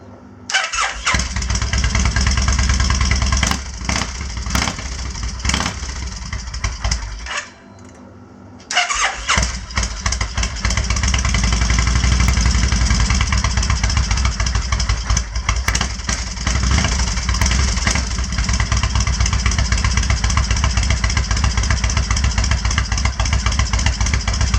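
A Kawasaki Vulcan 1500 motorcycle engine runs without the choke, a loud, steady close-up rumble that briefly cuts out and drops quiet, then restarts and settles into an even idle.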